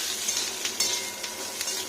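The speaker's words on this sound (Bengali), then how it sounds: "এটা একটু ভালো করে লালচে করে ভেজে নেবো পটলগুলোকে জিরের সাথে।" Pointed gourd pieces frying with whole cumin in mustard oil in a pan, a steady close hiss of sizzling with faint crackles and a light utensil clink, continuous and fairly loud throughout.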